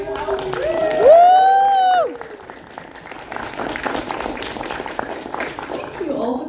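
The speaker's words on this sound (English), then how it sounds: "Can we get a cheer for mental health?" A cosplay panel audience at GSCon 2023 lets out loud whoops and cheers, then keeps up steady applause and clapping from the crowd.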